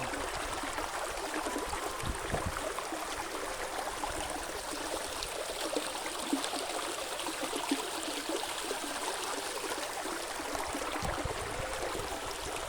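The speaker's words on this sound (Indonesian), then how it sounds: "Gemericik air terdengar indah, membuat hati kita itu menjadi tenang." A babbling river flows past tree-lined banks beneath the Kedung Lowo water bridge, a steady, even rush of water with a bright splashing hiss that never lets up.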